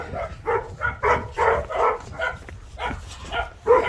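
A hunting dog whines and yelps in a steady run of short, high, pleading cries, eager to be taken out for a walk. The cries come close and fairly loud, repeating in quick bursts with no talking.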